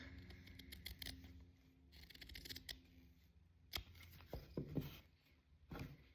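Scissors snipping around the edges of open-weave fabric, a quiet close series of crisp cuts and rustles with soft scraping as the cloth is moved.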